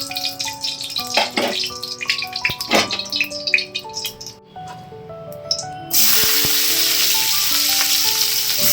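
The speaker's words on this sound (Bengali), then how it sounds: "একটু পেঁয়াজ আর ডিম দিয়ে সাঁতলে দিচ্ছি" Chopped onion and egg sautéing in a hot pan, close sizzling and spatula clatter for several seconds, then a loud, steady rush of hissing frying as the mixture hits the oil, no voices.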